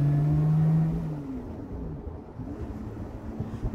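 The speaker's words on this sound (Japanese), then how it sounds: "これちょっとアクセルを踏んだら一気に行きますね。" Lotus 3-Eleven road version accelerating hard, its engine note rising loud at first then dropping back under rushing wind noise as the car pulls away.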